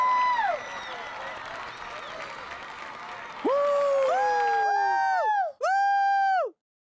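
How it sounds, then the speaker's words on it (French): A studio audience applauds and cheers loudly for a singer's performance at a televised music show, with sustained clapping overlaid by bright tonal effects. "je vous demande un tonnerre d'applaudissements pour la nouvelle étoile de la musique en Colombie"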